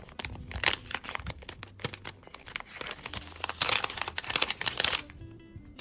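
Close, continuous crinkling of a plastic packet being handled, with rapid crackles and rustles that quieten near the end.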